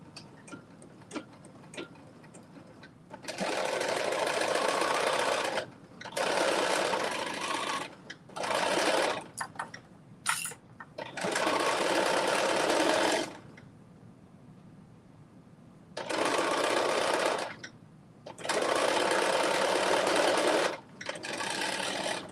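Sewing machine stitching the legs of a pair of shorts together, running in several separate loud bursts of rapid stitching with quiet pauses between them, heard alone without talk.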